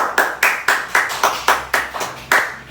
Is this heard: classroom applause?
yes